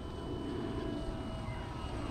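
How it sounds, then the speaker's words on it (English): A modified Bixler 2 RC plane with an NTM motor and 7x4 prop flies at full speed, producing a continuous loud buzzing whine with steady wind rush and no pauses. "I mean, this plane is not supposed to be this fast."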